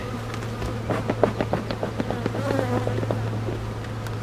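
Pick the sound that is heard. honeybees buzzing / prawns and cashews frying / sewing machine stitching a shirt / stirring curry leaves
honeybees buzzing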